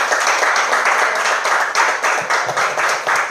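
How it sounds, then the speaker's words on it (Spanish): Church congregation applauding during a sermon, a loud, continuous burst of many hands clapping close by, with uneven pulses of rhythm and no speech over it. "¿Quién le da otro aplauso al Señor?"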